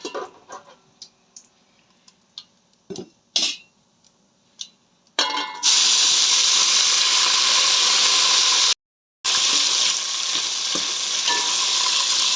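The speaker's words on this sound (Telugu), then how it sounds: "ఏం తిప్పు చూసారా ఆయిల్ చిందుతుంటే ఎలా భయపడుతుందో" Mint leaves frying in hot oil, loud and close: after a few quiet clicks and clinks, a dense spattering sizzle erupts and stays steady, cutting out briefly before resuming.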